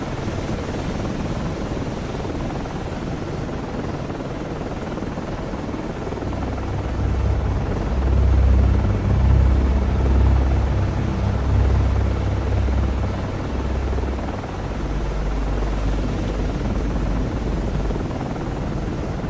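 Helicopter launch and flight in the naval game Cold Waters, a continuous loud rotor drone with low thumping that swells in the middle and then holds steady, with no voices.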